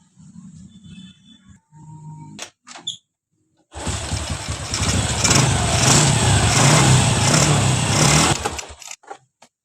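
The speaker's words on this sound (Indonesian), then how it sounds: "Mesinnya sudah kembali halus untuk suaranya, dan udah nggak ada lagi suara yang berisik, suara yang aneh-aneh." A Honda Revo Absolute motorcycle engine runs smoothly after an oil pump gear repair, a few short bursts and a pause before it starts, then a loud, steady close-up idle with mild revving for several seconds before cutting off.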